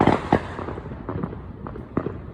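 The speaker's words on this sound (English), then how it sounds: "First time fireworks, so loud." Fireworks go off in a quick series of loud, sharp bangs with crackling in between, booming nearby with no voices.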